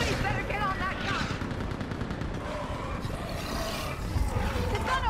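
Mounted gun firing in the video game Mass Effect 3, bursts of rapid gunfire rumbling under shouting voices and a busy battle din throughout.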